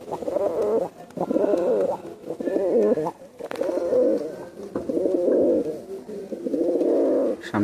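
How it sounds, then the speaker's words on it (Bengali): Teddy Baby pigeons, a female at the back and two males in front, coo in low rolling phrases that run almost continuously at close range, with a person talking over them. "একদম পিছনে একটা মাদি কবুতর"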